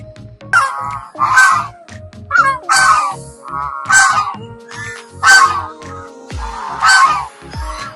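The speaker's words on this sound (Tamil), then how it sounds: "பாருங்க எவ்வளோ வாத்துக்கள்லாம் இருக்கு பாருங்க." Ducks at a Tamil village resort near Chennai call in a series of loud, nasal honking quacks, about eight bursts close by, repeated steadily over low background noise.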